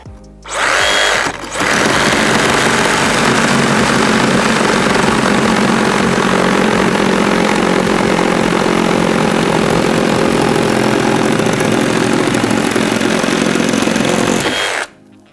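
DeWALT DCS382N cordless reciprocating saw cutting, a loud, steady buzzing roar that runs almost without a break for about fourteen seconds after a brief hitch at the start, close to the listener and with no talking.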